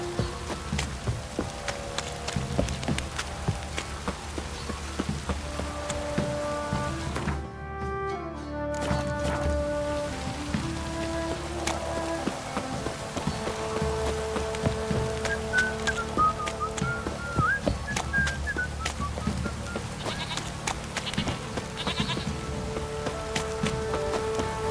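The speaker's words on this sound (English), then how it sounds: "This downpour's a bastard," Heavy rain pours steadily in The Witcher video game, a dense continuous hiss of drops beneath layered music and ambient tones, with a brief break in the middle.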